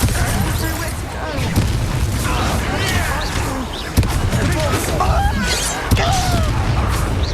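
Confringo fire spells bursting in the Hogwarts Legacy video game, a dense run of booming blasts and crackling impacts over a constant rumbling battle bed, with sharp hits near four and six seconds.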